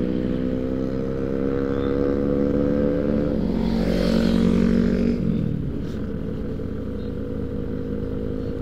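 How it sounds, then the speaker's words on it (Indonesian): A motorcycle rolling down a steep descent on light throttle on a morning ride, a steady low engine drone with a mild swell midway, continuous and close with wind noise and no talking. "Kita gas tipis-tipis sambil menikmati riding pagi, teman-teman"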